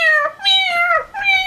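A domestic cat meows three times in quick succession, loud and close, each call rising then falling in a drawn-out whine with no other sounds.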